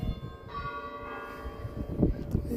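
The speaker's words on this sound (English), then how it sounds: "here come the half-hour bells" Church bells in the small Cotswolds town of Northleach ringing the half hour, clear sustained tolls with a long ringing hum, heard at a moderate distance over faint outdoor background noise.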